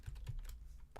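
Rapid clattering of keys on a computer keyboard, a quick uneven burst of close, crisp taps with no voices.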